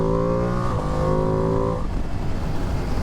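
A 2025 Ducati Panigale V2S motorcycle engine pulls hard through rising revs, a loud, close, climbing tone that steps briefly at a gear change before dropping into rough, rumbling road and wind noise.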